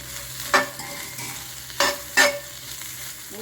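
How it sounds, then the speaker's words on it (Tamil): Fried chicken for Guntur chicken 65 is tossed into a sizzling pan, with three sharp scraping stirs over a low, steady frying hiss. "ஃப்ரை பண்ணி வச்சுருக்கிற சிக்கனை சேர்த்துடலாம்."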